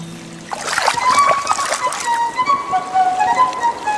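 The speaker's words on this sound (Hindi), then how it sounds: "वो नदी में जा गिरी" A splash into a river, a short watery slap and sloshing close by, mixed with a narrator's voice and background music for a children's story.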